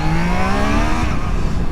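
A 2025 Triumph Trident 660 three-cylinder motorcycle accelerates nearby, its loud engine note rising steadily in pitch as it climbs through the revs.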